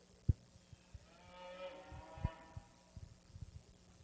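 Angus cattle at a livestock show ring, lowing in a few faint, drawn-out moos amid thumps and clatter of hooves and handling noise.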